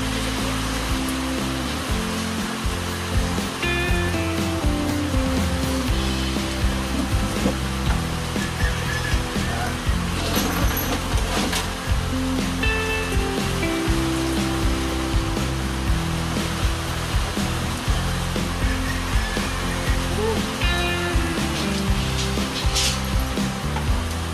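Steady rain falls close by in a broad, continuous rushing hiss, with scattered drips and a few knocks of wood against it, constant in loudness and without voices.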